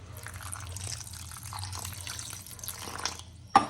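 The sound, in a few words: water being added to semolina batter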